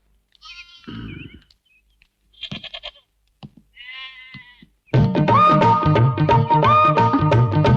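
A goat bleats several times in short, quavering cries amid quiet gaps, and then music swells in loudly and carries on to the end.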